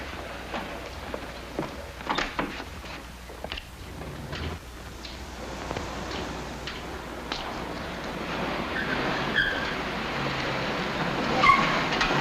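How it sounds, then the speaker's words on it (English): A car drives through a deserted factory area, giving a steady, moderately loud engine and road rumble with scattered clatter, under no talk. "We can drive in the rear entrance. My car's down the block."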